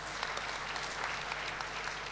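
Sustained audience applause fills an academic forum hall at a 2009 student council convention, a dense, even wash of many hands clapping for a physics professor, with no voices over it.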